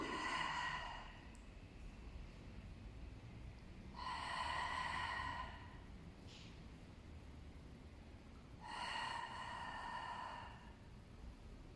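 A person exercising breathes out in three soft, breathy exhalations spaced about four seconds apart, faint against quiet room noise.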